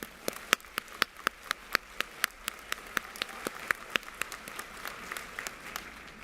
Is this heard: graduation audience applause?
yes